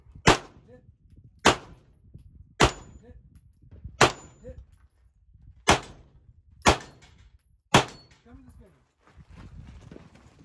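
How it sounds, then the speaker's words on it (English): Seven sharp pistol shots ring out at a steady pace on a competition shooting stage, each a loud crack with a steel popper target hit, separated by quiet gaps. "Pistol on the popper."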